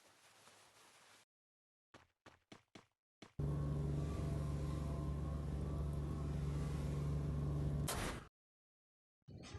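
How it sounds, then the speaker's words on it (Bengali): A video-game car engine drones loudly and steadily for several seconds after a few short clicks and bursts, then cuts off abruptly; no speech. "তো পিছন থেকে একটা গাড়ি আসতে দেখি আমি"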